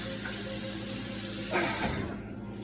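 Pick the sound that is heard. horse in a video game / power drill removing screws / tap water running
tap water running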